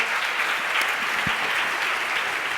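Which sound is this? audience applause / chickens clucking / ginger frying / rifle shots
audience applause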